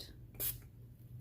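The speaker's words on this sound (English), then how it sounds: "So I'm going to gather that up and see if I can't just spray that." A single short spray burst of Marabu Fashion Spray fabric paint hisses close by for about a quarter second, then fades into a quiet room hum.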